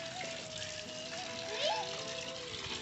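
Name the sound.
water running into a tub for washing clothes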